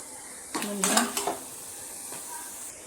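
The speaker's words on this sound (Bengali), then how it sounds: "শাক ভাজা" Greens frying in a pan are stirred with a utensil, producing a brief cluster of scraping clatters and light sizzle near the middle, then a faint tap later against quiet kitchen background.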